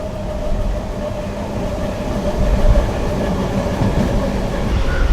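A MEMU train rolling into Murshidabad Junction, a steady close rumble of wheels and carriages with faint rhythmic clatter, an unchanging drone that swells slightly midway.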